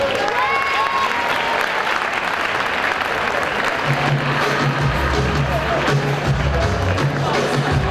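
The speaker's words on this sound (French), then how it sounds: "Vous pouvez l'applaudir très fort, la candidate numéro 5" Audience applause at the Miss Beaujolais 2011 pageant for a candidate, sustained dense clapping with crowd murmur throughout, and a voice over a sound system joining partway through.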